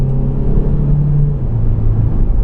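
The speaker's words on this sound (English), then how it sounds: "Alright, now we're accelerating" Low engine rumble and a rising drone from inside a 2014 Ford Focus Titanium with a 1.8-litre four-cylinder, accelerating from 35 to 55 mph, with steady road noise throughout.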